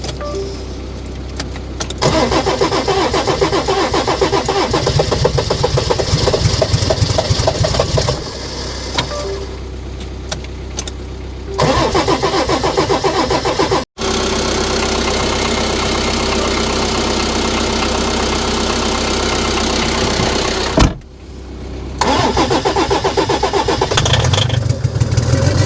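A Mercedes OM606 turbo diesel cranks and catches, loud and close, with repeated starter bursts broken by brief cutouts before the engine settles into a rough running idle.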